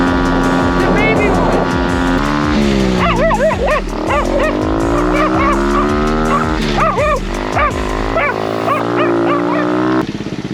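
An old 4-speed pit bike that sat for years revs unevenly up and down close by, its pitch rising and falling while a dog barks and yips loudly over it.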